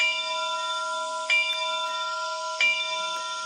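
Bell sound option 2 from the Bachmann EZ App on a Union Pacific ALCo 2-6-0 model locomotive, a bright electronic bell with sustained ringing tones and two sharp strikes over a steady hum.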